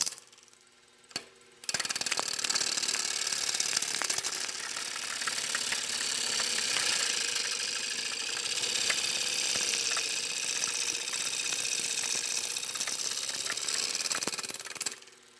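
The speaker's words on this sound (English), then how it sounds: "Taking too big a cut for my lathe, you can hear it stalling down a little bit." A 2-horsepower wood lathe motor roars loudly and steadily under a heavy cut while rough turning a bowl, stalling slightly and straining with a rough mechanical drone after a brief quiet start, close by.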